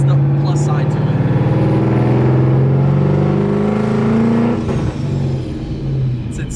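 A supercharged Ford Mustang S197, heard from inside the car, accelerates hard: a loud, rising engine drone with blower whine that eases off near the end while people talk over it.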